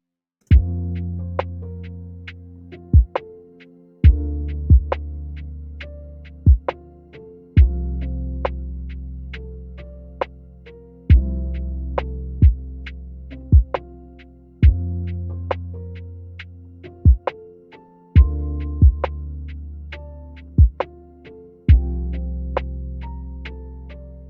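A mellow, relaxed lo-fi piano chord progression backed by a steady drum beat and deep bass, looping at an easy tempo with soft repeating kicks.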